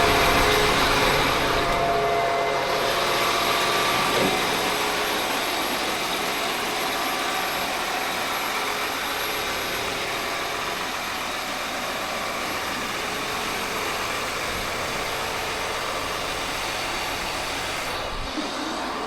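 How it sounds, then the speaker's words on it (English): A John Deere 8R370 tractor engine runs with a steady, loud roar and a broad whine, holding constant throughout with no voices. "The old 8 Series, beautiful tractor."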